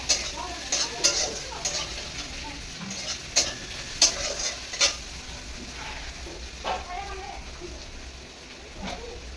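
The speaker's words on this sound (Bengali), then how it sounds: "মশলাটা ভালো করে কষিয়ে মাংসটা করে নেবো" Meat is stir-fried with spices in a wok over a continuous sizzle, broken by repeated sharp metallic scrapes and clinks of a utensil against the pan, irregular and close.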